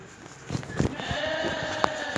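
A sheep bleats a few times nearby during shearing in a village, amid light handling noise and rustling, with a faint background hum.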